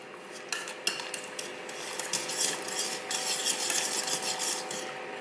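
Brown sugar being stirred into melted butter in a pan, a utensil scraping and clinking against the metal with a few sharp taps early on, then a steady busy rasp, close up with no talking.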